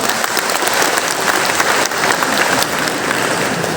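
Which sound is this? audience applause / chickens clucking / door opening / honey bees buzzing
audience applause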